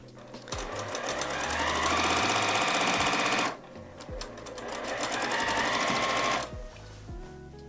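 A sewing machine stitches quilt blocks together in two long, steady runs of rapid mechanical chatter, close and loud, separated by a short pause.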